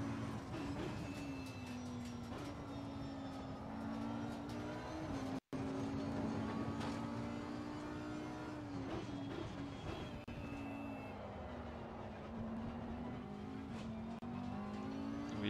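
Race car engines in Assetto Corsa Competizione, a steady droning engine note that rises and falls with gear changes and revs, with tyre and road rumble and a brief cut near the middle.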